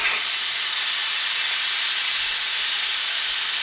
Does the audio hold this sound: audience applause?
no